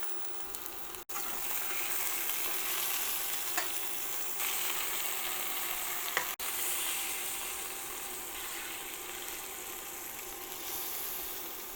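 Turkey breast browning in a hot pan for keto rollups, an even, continuous sizzle heard close up throughout, with a couple of faint knocks and no talking.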